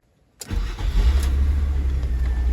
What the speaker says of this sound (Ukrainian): Пробуємо запускати двигун